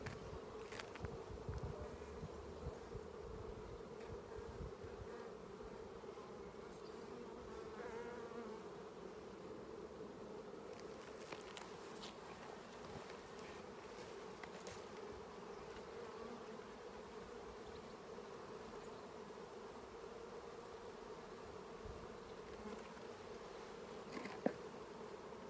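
Bees buzz steadily at an open hive during an inspection, a dense continuous hum that holds at an even level throughout, with faint handling noises on top.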